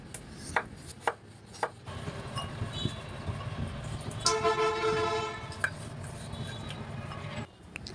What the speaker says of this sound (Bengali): ফুলকপির জন্য আমি এখানে দুটো আলু নিয়েছি আর এভাবে লম্বা লম্বা করে কেটে নিচ্ছি